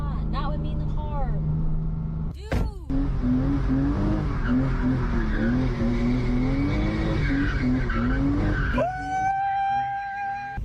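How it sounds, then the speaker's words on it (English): A car spins a donut with a long, wavering tire squeal over a revving engine, preceded by a brief thump and followed by a sharper, higher screech near the end, with voices talking over parts of it. "I'm gonna do a donut right here."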